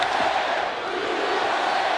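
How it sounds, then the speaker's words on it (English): A big arena crowd at a televised WWE Heat wrestling show roars and chants in unison, loud and steady with no break. "They're chanting USA"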